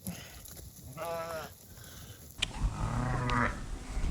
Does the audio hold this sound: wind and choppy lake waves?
no